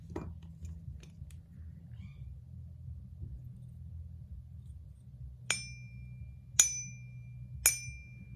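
Low rumble with faint clicks, then three clear ringing metallic pings struck about a second apart on a silver bar, each with a short shimmering decay.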